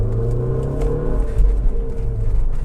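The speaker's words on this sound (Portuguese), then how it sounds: "Esse motor Twin Spark bem elástico também" An Alfa Romeo 156 Sport Wagon with the Twin Spark engine hums and revs in a steady, close drone with a slight swell in the middle, and no voices are heard.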